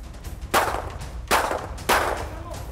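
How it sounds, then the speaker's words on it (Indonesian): Three sharp gunshots ring out about a second apart during a police arrest, each a loud broadband crack with a short decay over outdoor background noise. "Safrudin alias Kirno ditembak karena berusaha kabur saat akan ditangkap"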